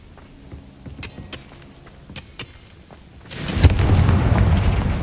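A spell explosion in the video game Hogwarts Legacy, preceded by faint clicks and thuds, then a sudden loud boom that settles into a sustained rumbling roar lasting to the end.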